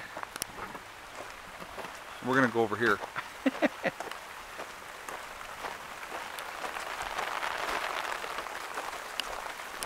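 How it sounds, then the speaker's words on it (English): Rain patters steadily outdoors with a soft, dense hiss that grows a little heavier toward the end, while a person speaks briefly over it partway through. "Oh, and the rain is coming, so we're gonna move this."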